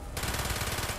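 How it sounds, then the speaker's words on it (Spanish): Rapid automatic gunfire in Call of Duty Black Ops, a tight fast burst of shots starting abruptly and running steadily for under a second, fairly quiet in the mix. "Es como dispara esto de rápido, tío."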